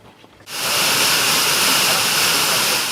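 A large potato is washed under running water: after a brief quiet start, a loud, steady rush of water from a tap pours continuously and close by, with no talking.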